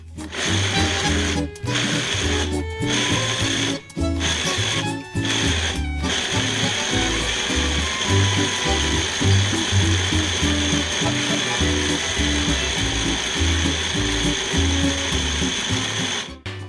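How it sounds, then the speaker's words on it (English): A food processor grinds hard pellets for guinea pig cookies, a loud continuous rattling whir with a few brief pauses between pulses early on, then grinding nonstop. "obviously it takes a lot of grinding for these pellets"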